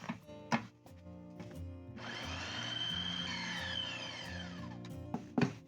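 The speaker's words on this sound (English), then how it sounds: "Lock my processor and blend until everything is smooth." A food processor whirs into a loud, steady blend of ingredients for about three seconds, its pitch sliding as the contents break down, with a few bumps and clunks before and after.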